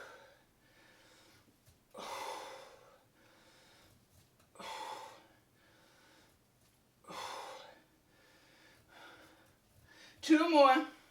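Controlled exercise breathing during a home workout lift: four forceful, close exhales spaced about two and a half seconds apart, with quiet breaths between and a brief voiced strain at the end.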